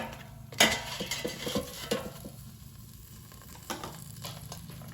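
Turkey wing being flipped in an air fryer basket: a sharp metallic clink followed by scattered light scrapes, taps and faint sizzling, close by, with no talking.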